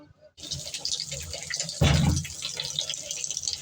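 Tap water runs and splashes over spiny gourd (kakrol) being washed in a kitchen, starting after a brief silence, with a louder gush of water midway and steady dripping and splashing throughout.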